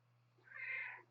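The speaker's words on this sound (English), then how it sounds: "My cat is here at my feet, and I can't really get any focus at the moment because of my cat." Pet cat sitting at someone's feet in a quiet indoor room gives a single soft, short meow, faint and close over a low steady electrical hum.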